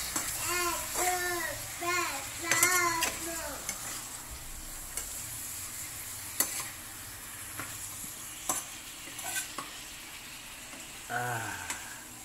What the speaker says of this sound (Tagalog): Lalagay natin yung chicken. Haluin mo natin